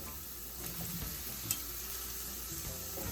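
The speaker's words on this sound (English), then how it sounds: "I'm going to go ahead and go on in with my string beans now" String beans tossed into a pan of sauteing ginger and garlic, a quiet steady sizzle with soft stirring scrapes and one small crackle midway.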